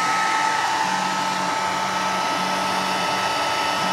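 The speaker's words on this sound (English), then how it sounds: "I'm printing on both printers, so it's extra loud" Two 3D printers run together, loud and steady, a broad whirring hum of fans with stepper-motor tones rising and holding in short segments underneath.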